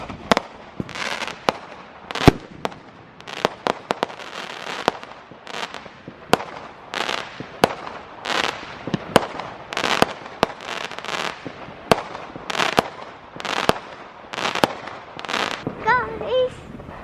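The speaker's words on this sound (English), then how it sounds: "lots of fireworks here today because it's bonfire night" Fireworks on bonfire night in the UK crack and bang in sharp, irregular bursts, some near and loud, others distant, while people talk throughout.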